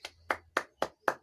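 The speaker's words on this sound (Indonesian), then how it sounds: "aplaus." Five evenly spaced hand claps, sharp and close, come from a single clapper in a classroom setting.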